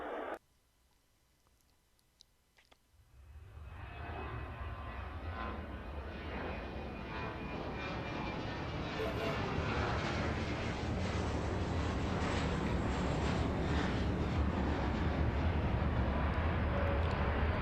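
A jet airliner in the Airport Madness video game takes off from runway 12 right. Its engine roar starts abruptly after a few quiet seconds, then swells and holds, loud and steady with no talk.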